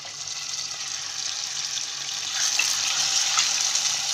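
A continuous, even hiss of chicken pieces frying in hot oil, growing slightly louder partway through, with no talking.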